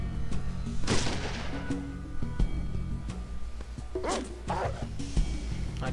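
A dog barks in the video game Fallout, with a few sharp barks and yips mixed with gunfire bursts and game noise. A nearby voice talks over part of it.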